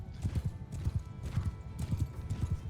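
A horse galloping in the medieval combat game Bannerlord: a fast, steady run of close, thudding hoofbeats in a driving rhythm, loud and unbroken with no voices over it.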